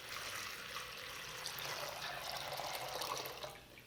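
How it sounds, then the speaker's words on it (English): Water premixed with flower food pours steadily into a hollowed pumpkin for a Halloween flower arrangement, a continuous close trickling splash lasting a few seconds with no talk. "Pre-mix flower food with your water and fill the pumpkin."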